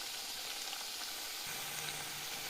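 Sabudana potato vada frying in oil over a medium flame, a quiet, even bubbling sizzle running continuously, close and unbroken, with no talking.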